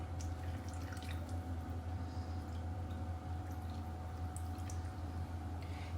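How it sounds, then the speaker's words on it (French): Water, 250 g of it, is poured from a rinsed container straight into a baking dish of mustard chicken thighs. It makes a steady watery rush and trickle over a low background hum, with no talking. "vous venez ajouter 250 g d'eau, on va rincer, et on va venir le verser directement dans notre plat pour la cuisson"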